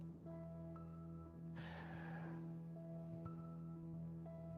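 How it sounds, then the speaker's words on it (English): A single short, fairly close sniff of breath from a person, rising briefly over a steady humming musical drone. "I'm gonna sniff that"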